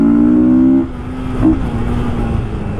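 A modified Yamaha MT-15 motorcycle with an aftermarket air filter revs loudly and close by, holding a steady, buzzy high idle before dropping sharply to a lower, rougher rumble with a small blip midway.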